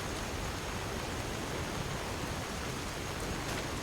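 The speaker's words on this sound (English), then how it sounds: "This is not normal rain." Rain in the Skyrim-based Keizaal Online video game, a dense, even hiss of steady rainfall filling the background with no pauses and no speech.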